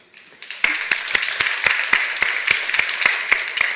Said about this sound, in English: I want us to go and give another round of applause